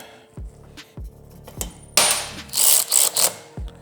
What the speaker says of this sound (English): now we're gonna have to remove the pinch bolts that's holding that in place